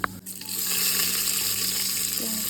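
Cumin seeds frying in oil in a pan for jeera rice, a steady close sizzle with a brief clatter at the start.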